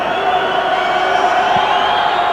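Rugby league crowd behind the posts at Old Trafford roaring steadily for a successful penalty kick by the Workington Town scrum half in the 1993 divisional final, a dense, continuous far-off cheer without pause.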